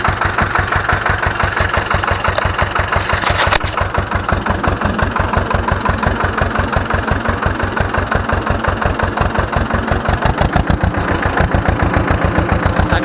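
A power generator engine started near an old Ursus C 325 tractor, settling into a loud, close, evenly pulsing idle chug that runs steadily throughout with no talking.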